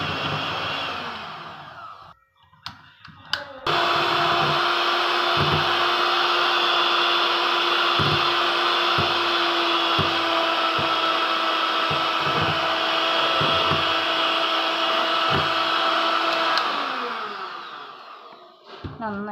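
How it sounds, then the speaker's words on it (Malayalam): Electric hand mixer beating egg yolks with vanilla essence for a sponge cake, a steady close whirring drone running about thirteen seconds with faint rhythmic knocks of the beaters against the bowl, starting and stopping abruptly. "നമ്മളെ എഗ് യോക്കിലേക്ക് നമ്മൾ വനില എസൻസ് ആഡ് ചെയ്തിട്ട് നന്നായിട്ട് ബീറ്റ് ചെയ്തെടുക്കാം കേട്ടോ"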